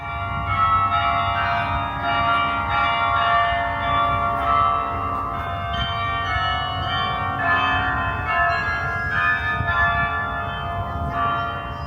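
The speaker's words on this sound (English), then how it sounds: "The bell music that comes out of the singing tower is a magical touch that elevates the experience." Carillon of 60 bells, the largest heavier than a car, ringing out melodic peals from a singing tower, with sustained overlapping tones held steady and loud throughout.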